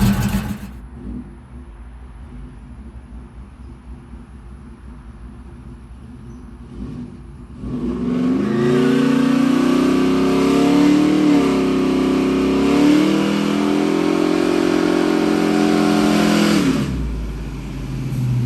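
A V8 Chevy S10 pickup idles quietly at first, then its engine revs up into a loud, sustained roar with rising and falling pitch before easing back down near the end.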